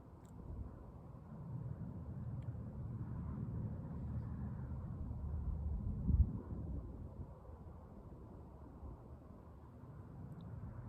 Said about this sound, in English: There's another airplane flying overhead.